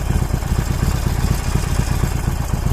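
A Harley-Davidson 1200cc Roadster engine idles close by with a steady, low, even throb that holds without a break for a few seconds.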